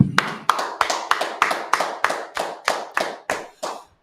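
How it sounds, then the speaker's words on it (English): A group in a history class claps in unison, about a dozen sharp, evenly spaced claps in a steady rhythm, close and clear with no talking over them. "All right, clap it up."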